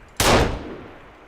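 A single sharp gunshot cracks loudly in the survival video game Sons of the Forest, then a reverberant tail fades out over about a second.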